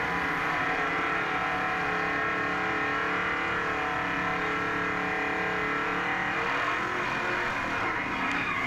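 A rear-wheel drive Impala drag racing car runs at a drag strip, its engine a steady loud drone with a low harmonic rumble that holds the whole time, with no talk.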